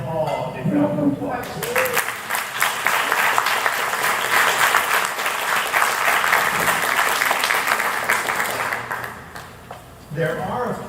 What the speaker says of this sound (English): if we can give them all a big round of applause.